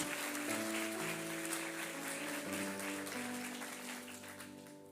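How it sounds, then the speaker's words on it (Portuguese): Church congregation applauding as a broad wash of clapping under sustained organ or keyboard chords, fairly faint and steady throughout. "Aplauda mesmo a Jesus."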